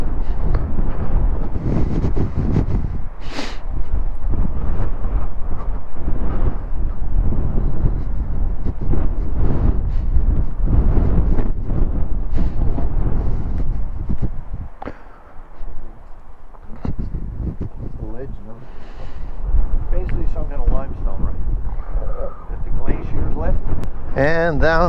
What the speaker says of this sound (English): Extremely windy here, so I don't know how well this will turn out.